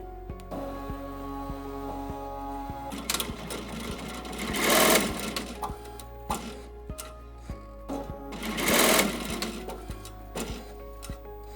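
ZSK embroidery machine stitching an in-the-hoop face mask design, a rapid steady needle chatter with a mechanical hum and two louder surges of whirring as the pantograph moves, close and alone.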